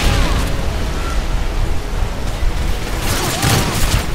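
Dense gunfire and explosions in Call of Duty Modern Warfare 3, a loud continuous battle din of rapid shots and booms with a heavier burst near the end.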